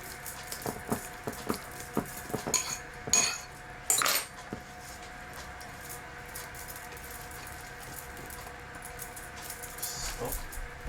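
A spoon clinks and rattles against a bowl as banana is mixed into cake batter, a run of quick taps and scrapes followed by quieter stirring.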